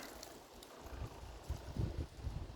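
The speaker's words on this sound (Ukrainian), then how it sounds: "сьогодні вітер невеликий, пориви до 5 метрів" Light gusty wind, gusts up to about 5 metres per second, buffets the microphone in low rumbling bursts, rising and falling over a couple of seconds.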